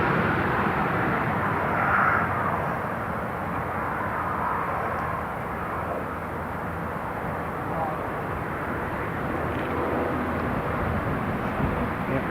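Broad, steady roar of an Italian Air Force C-27J transport aircraft coming in to land at Newcastle International Airport, loud and continuous, with talking over it.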